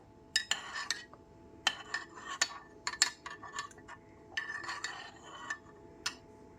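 A spoon clinks and scrapes against a bowl while cornflour powder is stirred into warm milk, irregular bright taps and short bursts at close range against a quiet background.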